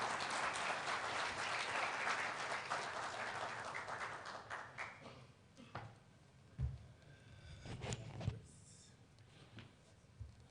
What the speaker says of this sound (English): Please join me in extending a warm round of applause as we welcome His Excellency to the stage